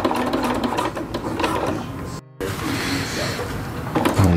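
A sewing machine stitches thick silnylon tarp fabric with a dense, rapid mechanical chatter, close by and continuous apart from a brief cutout midway. A voice speaks faintly under the machine.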